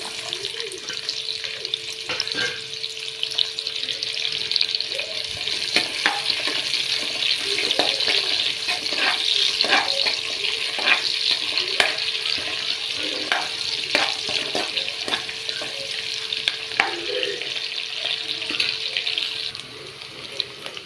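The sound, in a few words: onion and green chilies frying in hot oil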